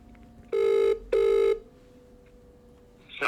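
A phone ringing while a call is placed to a business phone number: two steady electronic ring tones, each about half a second long with a short gap between, clear and close, followed by quiet line hiss and a faint start of a recorded message.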